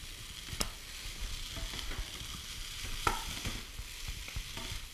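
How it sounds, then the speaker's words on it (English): Fried rice being stirred in a pan, a quiet continuous sizzle with a few sharp utensil clicks against the pan and no talking. "Now we just give this a good stir."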